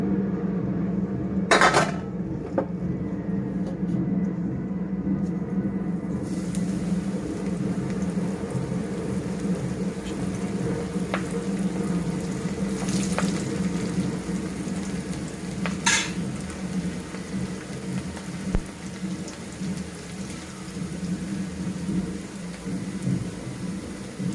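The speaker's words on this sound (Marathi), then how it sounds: "ते आता हे तेलामध्ये आपण फ्राय करूया" Besan batter-coated okra (bhindi) deep-frying in hot oil, a steady dense sizzle and crackle running continuously throughout at an even, moderately loud level, with no talking.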